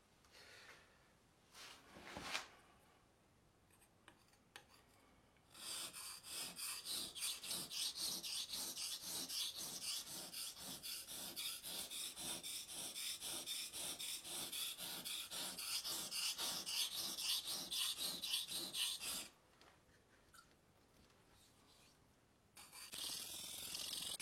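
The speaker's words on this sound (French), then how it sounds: "Vous allez l'entendre que je pousse et ensuite garde la lame en contact pour le retour." A rusty, dull knife blade is sharpened with steady, even push-and-return strokes, a loud rhythmic rasping that runs for about fourteen seconds, framed by quieter scraping at the start and end.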